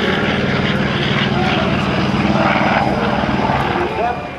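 A 2,000-horsepower F4U Corsair propeller aircraft roars steadily and loudly during takeoff at an air show, its engine drone filling the sound throughout and easing off slightly at the end.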